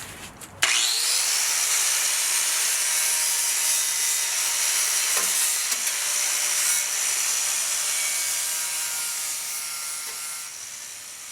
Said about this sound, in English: I ground down both the rear fender panels to double check for any additional corrosion.